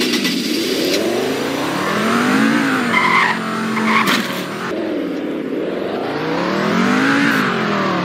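Car engine in the Roblox game Greenville, revving and shifting in rising and falling pitch sweeps with tire skids, steady and loud throughout without talk.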